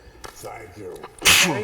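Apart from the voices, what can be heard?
sneeze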